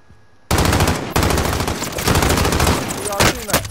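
Loud, close automatic gunfire in the video game Warzone, rapid sustained bursts broken by brief gaps and followed by scattered single shots, with players' voices faintly mixed in.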